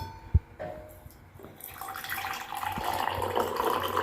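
Hot water pours steadily from a Milton insulated kettle, a bright rushing stream that builds after a couple of soft knocks and keeps going to the end, close and moderately loud.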